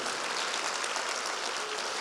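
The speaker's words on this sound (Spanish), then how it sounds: "Dele un aplauso fuerte a Él" Church audience applauding, a dense, steady wash of clapping from many hands lasting throughout, fairly distant and even.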